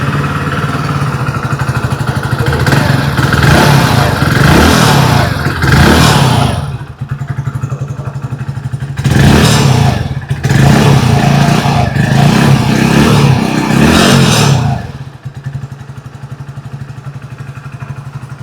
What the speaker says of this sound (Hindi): आइए अभी सुन लेते हैं इस बाइक की एग्जॉस्ट नोट।